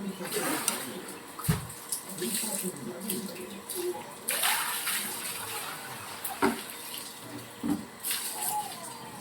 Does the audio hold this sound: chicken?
no